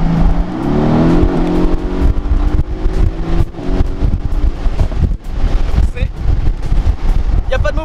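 Mercedes-AMG GT C convertible engine revving while driving, a brief rising roar at first that fades into heavy wind buffeting, with sharp pops and crackles near the end.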